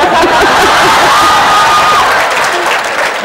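An audience at a literature festival session cheers and applauds loudly and continuously, a dense crowd roar close by for a few seconds.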